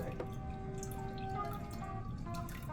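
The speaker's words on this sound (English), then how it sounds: "As I'm actually dumping the whey back in here, I'm doing it over a strainer." Whey from a failed homemade cheese trickles through a strainer in quiet drips and a thin pour, soft and close, with faint room noise around it.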